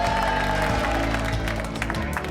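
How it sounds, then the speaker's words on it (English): Wedding guests applaud continuously at a reception, the dense clapping of a crowd steady throughout with some faint voices underneath. "come on, a big round of applause for Mr. and Mrs. Horton."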